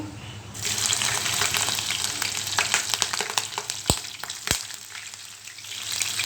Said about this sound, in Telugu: ఇప్పుడు తాలింపు గింజలు వేసుకుందాం ఇవి వేగే లోపల పచ్చిమిర్చి వేసుకుందామండి